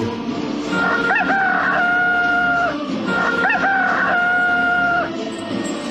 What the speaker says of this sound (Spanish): Y en aquel mismo momento cantó un gallo.